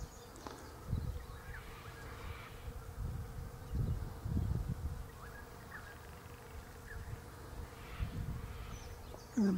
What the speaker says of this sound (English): The buzz of bees in spring,